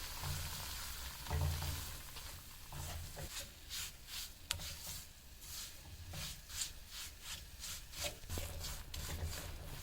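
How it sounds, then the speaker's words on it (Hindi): Corn flour being roasted in ghee over low heat for corn halwa, a spoon stirring steadily with soft scraping strokes against a gentle continuous sizzle, close and alone without voices. "देखिए आटे को अभी स्टिल मैं यहाँ पे हल्की आंच पे भून रही हूँ"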